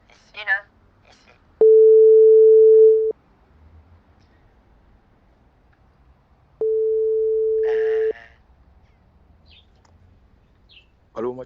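Two long, steady telephone ringback tones sound while a call is placed, each lasting about a second and a half with a pause between them, and brief voices at the start and end.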